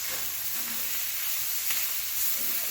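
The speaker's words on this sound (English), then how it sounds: "So we're searing our meat" Meat for Philly cheesesteak egg rolls sears in a hot pan, a steady loud sizzle and hiss with no talk.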